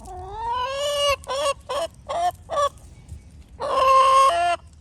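Chickens cluck and call loudly up close, a drawn-out crowing cry followed by several short clucks, then another long squawking call.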